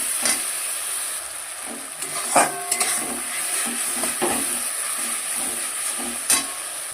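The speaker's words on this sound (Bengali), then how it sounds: "যে মশলাটা করে রেখেছিলাম সেটা দিয়ে দিচ্ছি দিয়ে এবারে এটাকে ভালো করে কষবো" Spice paste sautéed in a pan with onions for an amudi fish curry, a loud steady sizzle and hiss broken by repeated spatula scrapes and knocks against the pan.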